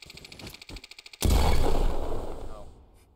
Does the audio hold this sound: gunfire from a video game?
yes